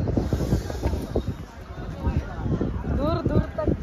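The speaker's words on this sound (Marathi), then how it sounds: "मस्त वाटते, वारा मस्तपैकी येतोय." Wind buffets the microphone on the jetty at Uran, where boats are moored by the sea. It is a steady, rough rumble that runs under near, continuous talk.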